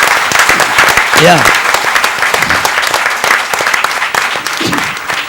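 Loud, sustained clapping from an audience at a regional quiz final fills the room, steady and enthusiastic, with a brief voice calling out over it.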